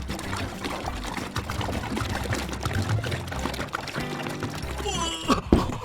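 Water pours into a container in a steady splashing trickle for several seconds, ending with a few brighter sloshes. Faint speech sits underneath.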